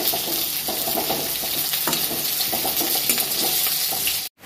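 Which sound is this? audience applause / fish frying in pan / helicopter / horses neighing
fish frying in pan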